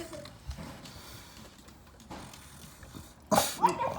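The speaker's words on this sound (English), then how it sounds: "The dog will scare you away." A dog on a porch barks at a raccoon raiding cat food, giving a sudden loud close burst near the end after quieter rustling and faint background sounds.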